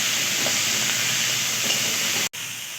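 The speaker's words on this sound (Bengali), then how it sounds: "কিছুটা আলু ও গাজর সিদ্ধ করা, তারপর এটাকে ভালোভাবে ভেজে নেব।" Potato and carrot filling frying in a pan, a steady dense sizzle that holds loud and even throughout, cut by one very brief drop near the end.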